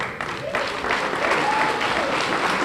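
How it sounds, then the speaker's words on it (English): A school presentation audience breaks into applause, many hands clapping in a full, steady roar that builds after a brief start, with some voices mixed in. "Round of applause."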